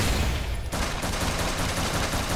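Rapid gunfire in a video game, a loud, continuous burst of shots with a brief gap partway through, no talking.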